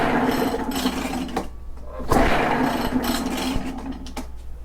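Echo PB-500H backpack blower on choke, cranked repeatedly without catching: rough, rasping pull-start strokes with brief gaps, close by and fairly loud, uneven in rhythm.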